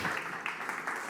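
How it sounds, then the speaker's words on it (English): Audience clapping for a speaker being welcomed onto a conference stage, a short, fairly quiet patter of applause with a few sharper claps. "So a big, warm round of applause"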